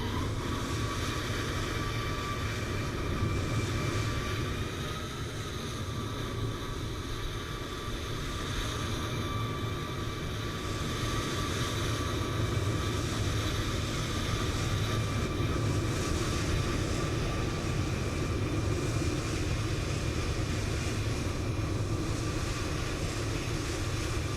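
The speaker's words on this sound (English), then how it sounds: "that's the other United aircraft there, making his way in" A United airliner taxiing in Microsoft Flight Simulator 2020, its engines giving a steady, loud, broadband rumble and whine that holds unbroken for the whole stretch.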